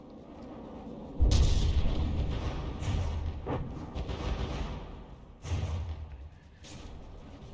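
Cram cannon shots from warships in the naval game From The Depths land as deep booming thuds, two heavy impacts and a few softer ones over a low rumble, fairly distant and muffled.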